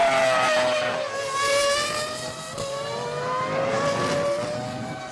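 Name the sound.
Ferrari F2002 Formula One car engine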